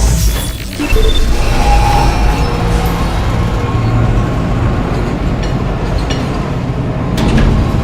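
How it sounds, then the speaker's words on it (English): A tram pulling into the flight deck tram control station aboard a spaceship in the Dead Space video game, a steady loud mechanical rumble and rail hum lasting throughout, with faint clanks and a door-like hiss near the end. "Now arriving at flight deck tram control."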